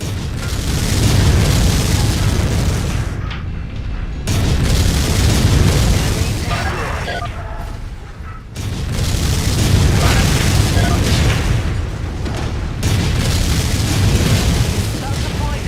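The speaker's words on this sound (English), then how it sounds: "Incoming missile." Missile explosions rumble in MechWarrior 5: Mercenaries, several long, heavy booms rolling one after another with brief lulls between, loud and close, with a faint voice now and then under the blasts.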